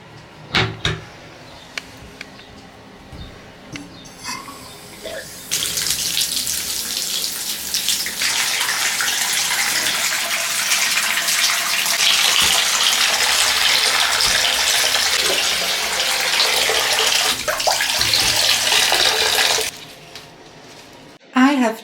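Bath filling from the tap: a steady, loud broadband rush of running water that starts abruptly, holds for about fourteen seconds and cuts off, with soft handling noises before and after and no talk.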